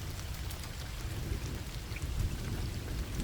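Steady, dense rain drumming against a car window, a constant close hiss of drops with a low rumble underneath and no voices, used as a sound effect in a horror story.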